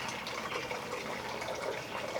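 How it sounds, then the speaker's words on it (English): Hot au jus pours steadily into a pan of burnt ends cooked on a reverse-flow smoker, giving a faint, continuous splashing gush that runs without a break. "Then we're going to pour the au jus."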